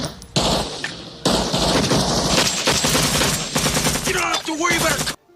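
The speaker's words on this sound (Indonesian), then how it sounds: "Di tengah baku tembak, musuh terus menambah pasukannya" Dense gunfire fills a Vietnam War film battle, with rapid automatic bursts and overlapping shots rattling loud and continuous for several seconds before cutting off abruptly.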